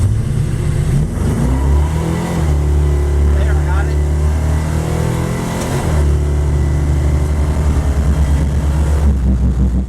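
A Plymouth Duster with a 318 engine and 904 transmission revs hard and loud from inside the car, its engine note rising and dropping with a shift-like dip, while someone talks over it.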